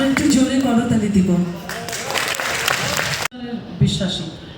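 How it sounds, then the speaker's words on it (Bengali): An audience at a Kazi Nazrul Islam festival claps loudly. A voice speaks first, and a burst of broadband applause follows, rising under and after the talk before cutting off abruptly. "আমরা একটু জোরে করতালি দিব।"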